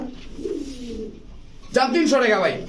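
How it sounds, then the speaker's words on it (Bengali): A female Budapest pigeon coos briefly near the microphone, with a steady low murmur and some background noise; the cooing rises clearly toward the end. "অরিজিনাল বুদাপেস্ট মাদি কবুতর"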